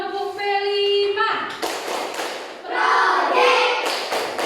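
A class of Indonesian schoolchildren claps in rhythm through the Tepuk P5 chant during a classroom ice-breaker. Sharp group claps arrive in bursts under loud, steady chanting voices, after a brief sustained tone at the start.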